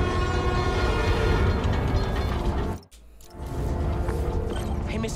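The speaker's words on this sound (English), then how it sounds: "My trusty New York subway." A New York subway train in the video game Spider-Man: Miles Morales rumbles loudly and continuously, with a sudden short dropout midway before the rolling rail noise resumes.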